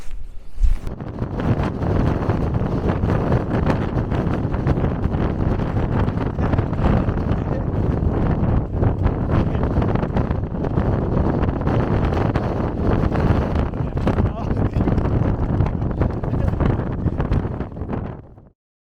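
Strong gusting wind buffets the microphone on an exposed hilltop campsite, a loud continuous low roar with fluttering bursts that runs unbroken for the whole stretch before cutting off abruptly at the end.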